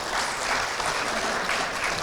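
A round of applause from the seated audience at a commemorative symposium marking 50 years of ASEAN-Japan friendship, dense and steady throughout at moderate loudness, with no break in the clapping.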